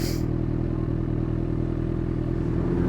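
Honda CB1000R engine held in fourth gear under hard throttle on a road ride, a steady, loud, close droning roar that continues without a break.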